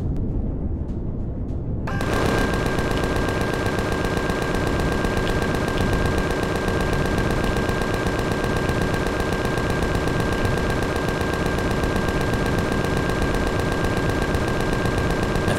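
Minigun or Gatling gun fire in the Empyrion Galactic Survival video game starts after a brief quiet lead-in and becomes a continuous, loud, close stream of rapid shots with a steady mechanical whine, unbroken for over ten seconds.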